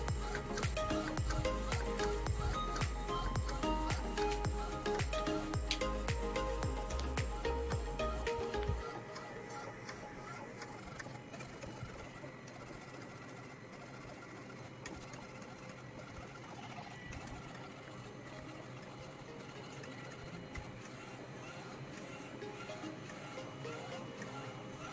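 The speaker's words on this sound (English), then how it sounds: "Printing is started now." A modified Epson L1800 printer running a DTF print job, its busy mechanical whir and rapid repetitive clatter loud for the first eight seconds, then settling into a softer steady hum of printhead movement.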